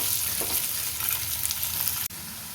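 Potatoes frying lightly in oil with cumin seeds, a dense and steady close sizzle with a brief stir, then a sudden dip before the hiss resumes.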